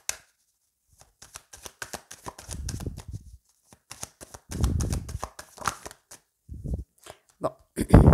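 Tarot cards are shuffled and drawn in a series of sharp, dry riffles and soft slaps with some bursty runs, close and fairly loud, with brief pauses between bursts and no talking.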